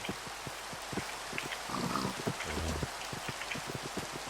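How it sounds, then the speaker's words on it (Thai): Rain falling in the video game Minecraft, a continuous patter with regular ticking drops, accompanied by occasional pig grunts in the background. "ฝนตก"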